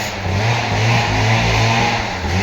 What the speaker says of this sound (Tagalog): Yan, yung motor natin.